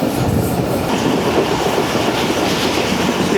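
Pak Business Express, Pakistan Railway's 33UP train, running at speed past a station after a right then a left turn: a loud, steady rumble with continuous rhythmic clickety-clack of wheels over rail joints, heard up close from on board.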